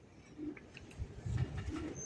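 A male Raj Golla pigeon with down marking gives low, soft coos, a few brief throaty murmurs close by over faint background noise.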